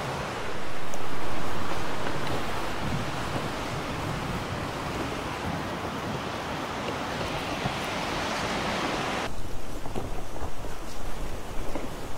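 The sea's constant murmur near a pine forest trail at the Saulkrasti seaside resort, a broad, even wash of distant surf that swells slightly early on and continues unbroken with no talk.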